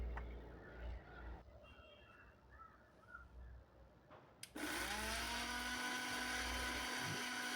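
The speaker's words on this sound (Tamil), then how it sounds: "இப்போ நான் வந்து சின்ன மிக்ஸி ஜார் கப்பில் வந்து இந்த பவுடர் பண்ணிவிட்டு" A small mixer grinder jar starts up abruptly and grinds spices into powder with a loud, steady whirring roar. Before it starts there is quiet room noise with faint bird calls outside.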